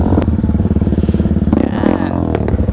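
A brand new Yamaha WR155R dirt bike on a downhill trail ride, its engine loud and near with a rapid throbbing single-cylinder pulse, the throttle easing off as it rolls on.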